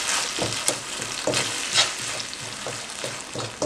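Tomato paste sauce being mixed in a hot pan: a bright sizzle under rhythmic spatula strokes, roughly ten close scrapes at a steady pace, with no voices.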